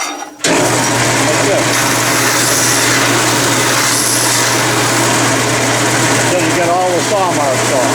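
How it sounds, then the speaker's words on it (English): A belt sander runs loud and close with a steady high motor whine and gritty abrasive hiss as toolmaker's clamp parts are squared against it, while someone speaks briefly over the noise. "Another way is to use your belt sander."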